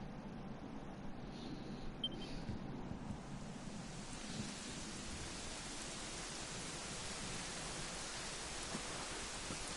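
Steady, faint rain falls in the Dragon Quest XI video game, a soft, even hiss that continues without pause and with no voices.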